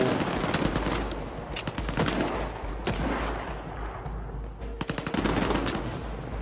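Pistol and automatic gunfire in the video game Stalker 2, with repeated sharp cracks in bursts and scattered single shots, some close and loud, others farther off.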